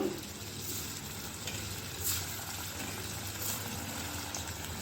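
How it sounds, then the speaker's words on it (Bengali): Kofta balls of jackfruit deep-frying in hot oil in a wok over a low flame, a steady continuous sizzle with faint bubbling and a few soft stirring touches, close and even throughout. "এবার আমি বলগুলো ভেজে নেব"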